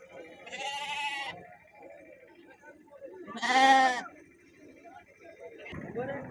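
Calves at a weekly Saturday livestock market bleat loudly in short bursts, two strong cries and a third starting, near and clear over quiet background chatter.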